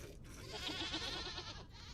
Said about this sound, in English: You can just keep trying to milk goats.